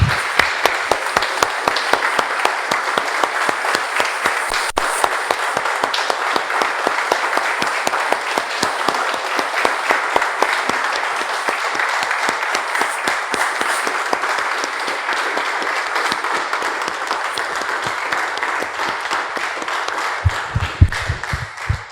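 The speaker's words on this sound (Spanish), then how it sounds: "Damos un aplauso, hermano." A church congregation applauds at length after a prayer, producing loud, sustained, steady clapping with a fast, rhythmic pulse that carries on without a break for over twenty seconds.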